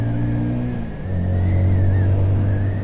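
A serviced motorcycle pulls away on its first ride, its engine droning steadily with a rising harmonic tone, briefly dipping before building again into a sustained close rumble.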